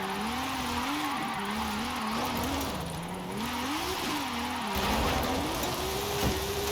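A car's engine in Forza Horizon 5 hums at a steady pitch that wavers up and down as the throttle shifts through a long, smooth slide, the tyres hissing softly underneath, fairly quiet and continuous, with no talking.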